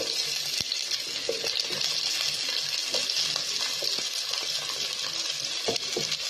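Onion sizzling as it goes into a pan of hot cooking oil for a coconut milk chicken dish, a steady close, bright frying hiss with small pops and stirring clicks, no talking.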